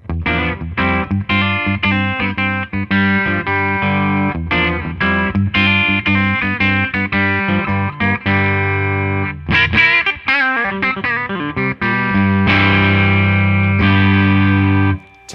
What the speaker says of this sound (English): Let's go to Mr. Bridge pickup. See what the heck we've got a going.